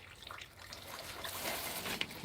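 A rabbit urinating produces a soft, steady trickle of liquid, close by and fairly quiet, with a brief brighter splash near the end.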